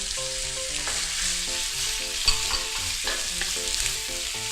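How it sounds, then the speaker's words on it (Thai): Yakisoba noodles with carrots stir-fry in a pan, a steady close sizzle running throughout, with occasional soft scrapes of stirring and a light knock in the middle. "ผัดสักครู่หนึ่ง"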